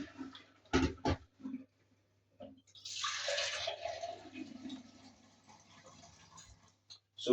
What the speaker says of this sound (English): I am going to rinse this out.